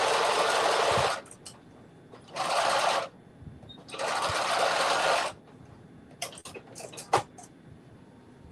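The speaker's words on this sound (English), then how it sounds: "I'm just back stitching a little bit." Sewing machine back stitching a caftan seam: three loud, steady bursts of whirring stitching, each a second or so, separated by short pauses, then a few small clicks and taps as the fabric is adjusted.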